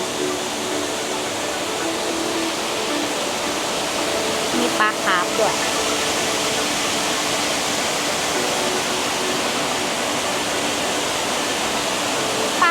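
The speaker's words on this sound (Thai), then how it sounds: "อันนี้ก็คือเป็นน้ำตกที่อยู่ทางด้านหน้าวัดนะคะ สูงมากแล้วก็สวยมากนะ" A tall waterfall in front of a temple in Taiwan gives off a steady, full rushing roar for the whole stretch, while a voice speaks briefly over it midway.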